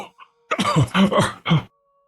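A raspy cough followed by a run of harsh, throaty coughs and throat-clearing, loud and close, ending abruptly in silence.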